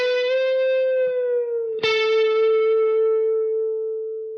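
A sustained electric guitar note with a rich, overdriven tone, bent upward a step and a half, then a new note is picked and held, ringing out with gradual decay.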